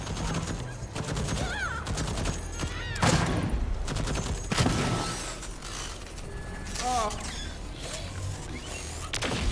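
An automated turret in the video game Deathloop fires rapid bursts with mechanical clatter. Voices and game sounds mix in over the gunfire.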